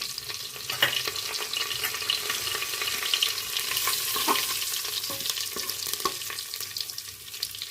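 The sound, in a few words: whole spices, curry leaves and hing sizzling in oil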